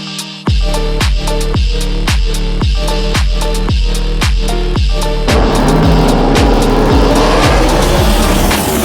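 V8-powered Trans Am Super Tour race cars thunder past at Road Atlanta, a loud, close engine roar with rapid, evenly spaced pulses that swell and then fade into a rushing, gritty wash as the cars pull away.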